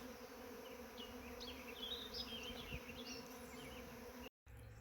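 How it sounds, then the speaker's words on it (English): A dense, steady buzz of many bees swarming nearby, continuous and droning with faint higher whines drifting over it, then a brief cut at the end. "thousands of honeybees flying around and circling you"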